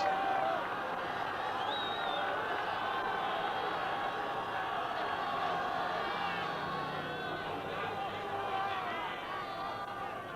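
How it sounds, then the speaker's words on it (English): A rugby stadium crowd at a 1968 Pumas versus Wales test in Argentina murmurs and cheers faintly in the distance after a penalty kick, a steady broad roar with a commentator talking over it throughout. "The crowd obviously not as vociferous as they would have been if the Pumas were leading by 6 instead of losing."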